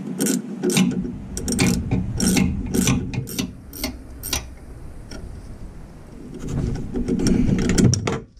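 Ratchet wrench undoing a shock absorber bolt on a Jeep TJ, giving repeated rasping, clicking bursts in quick rhythmic strokes, close and fairly loud, with brief pauses between runs of cranking.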